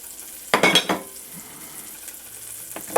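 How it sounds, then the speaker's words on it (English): Three tablespoons of butter hit a pan warmed over medium heat, giving a short burst of sizzling and spattering near the start that settles into a faint, quiet crackle. "I'm going to add 3 tablespoons of butter"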